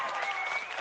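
A brief clapping emoji sound effect during an online chat, a short burst of crowd applause heard at moderate level.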